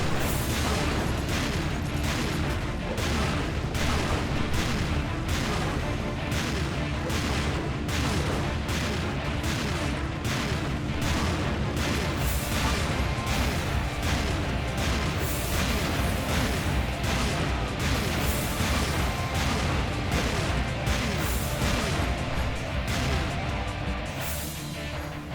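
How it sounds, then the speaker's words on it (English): Turret gun in Serious Sam 2 firing nonstop, a long run of rapid heavy booming shots in a regular pounding rhythm, loud and close over dense explosions, lasting the whole stretch without talk. "Might as well hop on this turret here."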